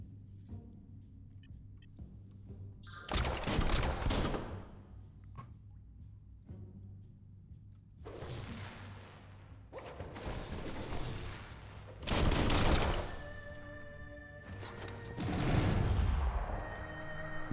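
Pistol gunfire rings out in Biomutant in separate loud bursts with ringing tails, spaced a few seconds apart against quiet game ambience.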